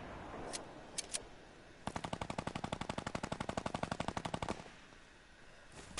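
Automatic gunfire in a shooter video game: a couple of isolated shots, then a long rapid burst of evenly spaced rounds lasting a few seconds before cutting off, fairly quiet in the mix.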